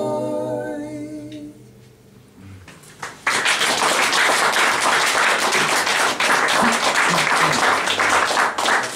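A concert audience in Prague breaks into loud, steady applause after a sung passage fades out, many hands clapping in a sustained, dense roar that continues to the end.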